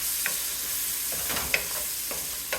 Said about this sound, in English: Browning in those sausage juices.